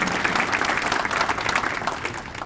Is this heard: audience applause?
yes